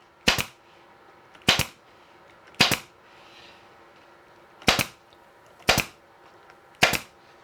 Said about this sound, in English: I'm stapling into a very narrow rabbet